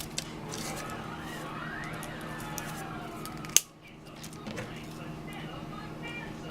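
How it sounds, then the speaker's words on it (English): Wire cutters snap once through a flower stem while a holiday wreath place card is being made, a single sharp close click standing out briefly against steady room noise. "just cut the stems off the flowers"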